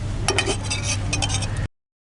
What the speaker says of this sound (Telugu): ఇప్పుడు రైస్ కలుపుకుందాం